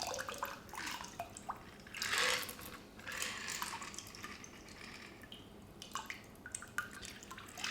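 A freshly strained blueberry mint cocktail pours from a shaker through a strainer into a glass, a close trickle that swells, breaks into drips and splashes, then trails off in scattered drops.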